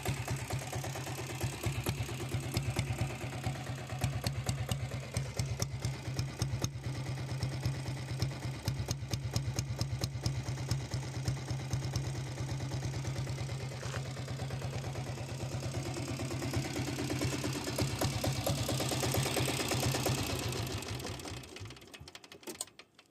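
A 7.5 HP self-start diesel Royal Enfield Bullet engine runs close by with a fast, even, knocking beat before cutting out near the end.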